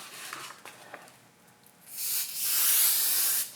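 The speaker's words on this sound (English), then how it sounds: "I'm gonna go ahead and spray this other side with the Kandi Pro Spray on here. We're just gonna lightly mist it." Kandi Pro Spray lightly mists a sock from a pump bottle: one soft hiss builds and holds for about a second and a half, close by, after a quiet lead-in with faint handling taps.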